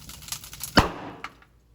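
A plastic bottle bursting from liquid nitrogen pressure: one sharp, loud pop with a short decaying hiss after it, preceded by faint background noise.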